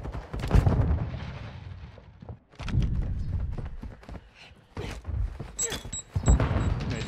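Video game gunshots in rapid clusters, punchy cracks and bursts coming in several separate volleys with short gaps, loud and close, occasionally overlapping faint talk.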